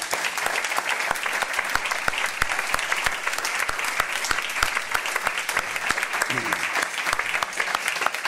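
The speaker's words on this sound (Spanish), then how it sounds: "pues un aplauso para él también es llamativo." Audience applause for Bernardo fills the hall, a dense, steady wash of many hands clapping throughout, loud and sustained without pause.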